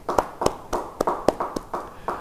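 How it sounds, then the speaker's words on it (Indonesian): Congregation clapping in steady rhythm during a church service, about eight sharp, evenly spaced claps over two seconds, close and clear with no talk. "Beri tepuk tangan buat Tuhan"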